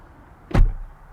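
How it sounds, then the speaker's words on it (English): A single solid thump as the door of a 2023 Genesis G90 is shut close by, brief and muffled. "Let me shut that door."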